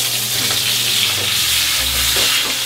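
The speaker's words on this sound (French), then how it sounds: "Le rôti, je le tourne régulièrement. Bien saisi." A pork roast sears in a hot pan, giving off a loud, continuous close sizzle and crackle with faint shifting as it is turned, with no talking.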